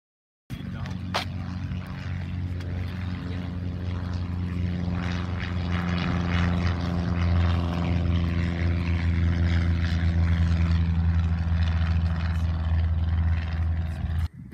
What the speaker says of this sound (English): today we have a plane doing some touch and goes